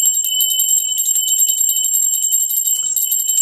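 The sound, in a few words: bell being rung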